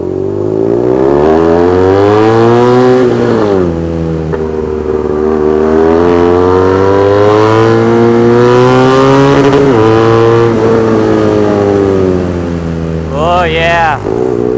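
A BMW R nineT motorcycle with a custom-made exhaust roars loudly while riding on a quiet Sunday morning road, its deep engine note climbing and dropping through gear changes, close and continuous throughout.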